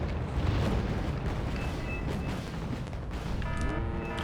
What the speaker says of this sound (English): So I think this area is going to be bombed now.